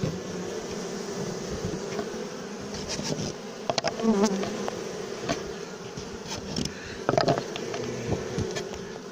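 A dense, steady hum of many honeybees buzzing close by, with individual bees droning past and occasional light knocks.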